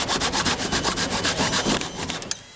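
A jigsaw cuts through wood up close, a loud rasping buzz pulsing in fast regular strokes before stopping abruptly at the end.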